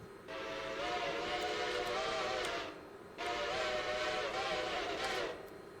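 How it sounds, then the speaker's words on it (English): Steam locomotive whistle in the Railroader video game, two long sustained harmonic blasts with a short break between them, loud and close with no talk. "You got your whistle, which... There was an attempt, I'll give him that."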